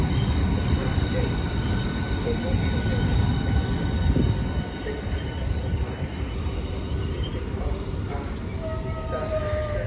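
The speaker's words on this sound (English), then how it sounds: "Now approaching is the 1300 southeastern service from London St Pancras International." Steady loud rumble of a passenger train arriving at Deal station, continuous wheel and engine noise with faint high whine throughout, no talk.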